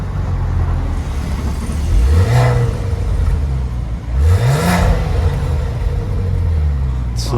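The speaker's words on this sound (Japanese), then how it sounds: "マフラーサウンドを聞かせていただくことができましたので、ちょっと撮影してみました。" A Maserati Levante Modena with a 430-horsepower V6 idles with a deep, steady exhaust rumble, then is revved twice in quick rising blips that fall back to idle, heard close up with no talking.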